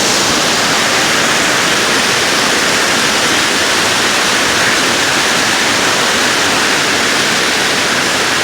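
Water pours down a waterfall in a dense, steady, loud roar that fills the whole clip without a break and has no voices over it.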